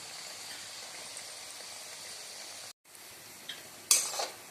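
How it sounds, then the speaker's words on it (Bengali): Goja dough pastries fry in oil over medium heat, a steady soft sizzle running throughout with a brief dropout and a few light clinks of a utensil near the end. "মিডিয়াম আঁচে রেখেই এটা আমি হালকা করে ভেজে তুলব।"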